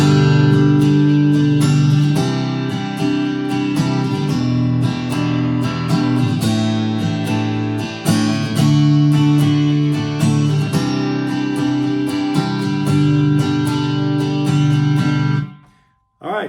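Strummed guitar chords ring out steadily, shifting through several chord changes in a continuous rhythm before stopping abruptly near the end.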